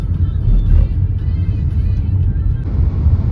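A car driving on a Russian road between cities gives a steady, loud low rumble of engine and tyre noise from inside the cabin, with no talk over it.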